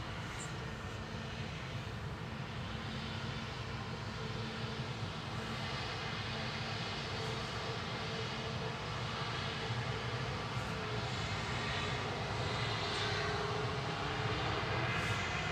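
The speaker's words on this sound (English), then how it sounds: "6:55 to Lanzarote for Ryanair for Loz" Ryanair airliner departing Manchester for Lanzarote, its jet engines holding a steady, broad roar that stays loud and constant throughout, with no voices over it.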